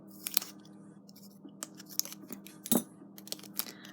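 Scissors snip through a strip of nail form material, giving a few sharp, close cuts amid quiet handling noise, with one louder snip standing out near the end.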